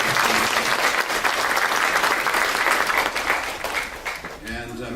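An audience at a youth drama camp play in Yadkinville gives a round of applause for the sound operator. The clapping is loud and continuous, then tapers near the end as a voice begins to speak.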